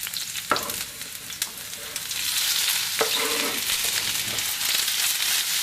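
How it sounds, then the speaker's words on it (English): Chopped celery and onion fry together in a pan, a steady close sizzle with a few sharp stirring scrapes and clacks near the start and around the middle. "Celery has the same texture and consistency of onion, so we can fry those together, soften them together."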